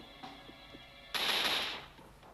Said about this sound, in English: Alex pulled out a gun. Let's battle